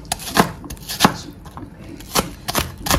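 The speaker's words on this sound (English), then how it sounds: "We'll go ahead and chop our onions for the waakye and Angwamo." A knife chops red onion and shallots into small pieces on a cutting board, giving irregular, crisp taps close by with no talking.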